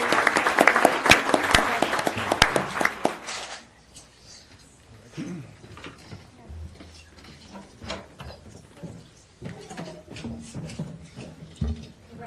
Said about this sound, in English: let's give all of our educators a big round of applause